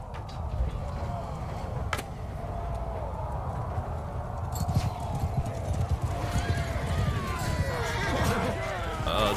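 In the Mount and Blade Bannerlord video game, a horse's hooves clip-clop amid battle noise, with a whinny and scattered impacts and clashes, while someone talks over the action.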